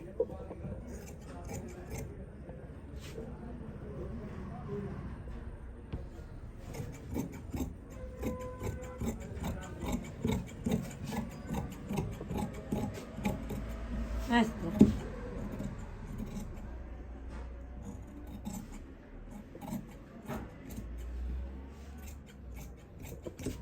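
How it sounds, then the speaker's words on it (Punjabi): Scissors cut through embroidered suit fabric on a tailoring table, a steady run of crisp snips and rasping blade strokes with brief pauses, close and moderately loud, with a low background hum and no talking. "ਹੁਣ ਇਹਦੇ ਨਾਲ ਨਾਲ ਆਪਾਂ ਇਹ ਕੱਪੜੇ ਨੂੰ ਕੱਟ ਕਰ ਲਾਂਗੇ"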